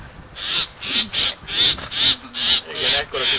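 A great reed warbler held during bird ringing calls loudly and close in a rapid series of harsh, grating bursts, about eight in a row with short gaps between them.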